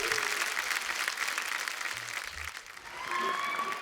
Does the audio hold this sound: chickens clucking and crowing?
no